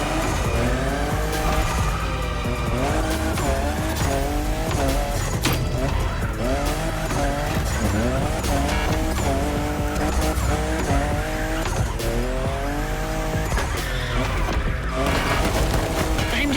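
A Toyota Supra drifting in the racing game The Crew Motorfest, with a loud continuous engine howl rising and falling through gear changes and long tire squeals layered with music, sustained and close throughout.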